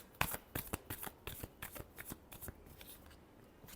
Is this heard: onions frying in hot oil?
no